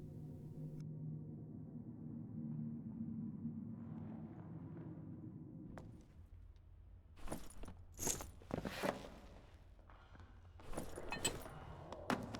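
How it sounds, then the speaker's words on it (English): Another player's footsteps in Dark and Darker, a few scattered crunchy steps and clatters on a hard dungeon floor, faint and somewhat distant, arriving after a low droning background fades out. "We hear some footsteps to our south."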